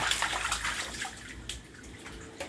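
Water splashing and pouring steadily during a catfish tank water change, a continuous broadband rush with occasional louder splashes and no talk.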